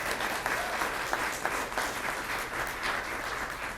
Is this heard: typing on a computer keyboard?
no